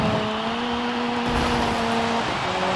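Rally car in DIRT 5 on a Brazil stage: a loud, steady engine hum with a held pitch that shifts slightly near the end, heard alone without speech.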